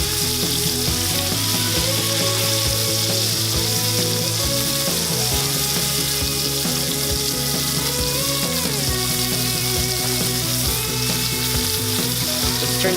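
Steak frying in a hot pan with butter gives a loud, steady, close sizzle that spits and crackles without a break and without any voices.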